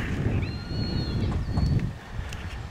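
Horses loose outdoors on a horse farm, hooves clip-clopping and shuffling through a steady wind-like rush, with a faint whinny and bird chirps drifting in partway through.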